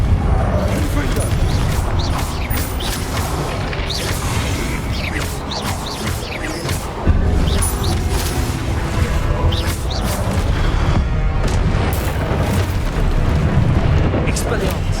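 Confringo spell blasts in Hogwarts Legacy, a string of booming fiery explosions and crackling bursts layered over dense combat noise, loud and near, with a sharp hit around midway.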